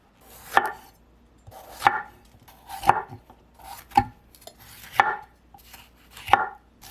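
A knife slicing a red bell pepper lengthwise into strips on a cutting board, six evenly spaced crisp chops about a second apart, close and clear with no talking.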